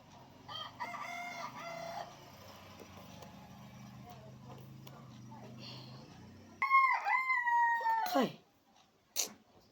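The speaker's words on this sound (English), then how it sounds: "that chicken?" A rooster crows nearby, a loud, sharp call rising and breaking late in the stretch, preceded by softer background noise and talk with a dog-like sound, then a brief final cry.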